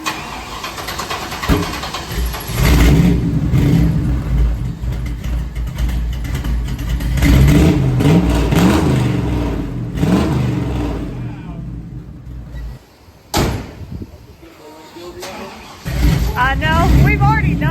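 A square-body truck engine with custom header exhaust rumbles and revs loudly and close by, with several surges and a brief drop near the end, while people talk over it.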